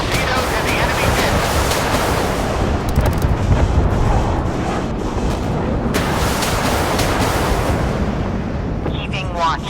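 Naval gunfire and missile strikes in a warship combat video game: a loud, dense, continuous roar with booming impacts around the three- and six-second marks, all layered over a rolling sea-like wash.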